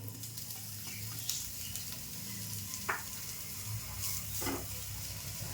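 Bitter gourd fries steadily in hot oil, a soft continuous crackle with a few brief stirring scrapes.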